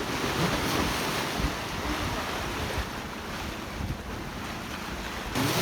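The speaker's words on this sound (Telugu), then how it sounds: "ఇవాళ ఏందో గాలి చాలా బీభత్సంగా ఉంది. అలలు కూడా చాలా ఉన్నాయి ఇవాళ." Strong wind and rough sea waves roar around a saltwater fishing boat. A dense, loud, constant rush of wind buffeting and water churning fills the whole stretch without letup.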